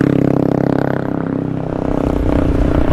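Close, loud KTM Duke 390 motorcycle exhaust giving a rapid, throbbing engine pulse that stays steady and then roughens and swells slightly toward the end of the three seconds.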